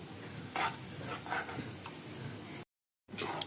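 Motichur laddu mixture being stirred in ghee with a spatula, with a few soft scraping strokes and a faint sizzle, close and quiet, broken by a brief gap of silence.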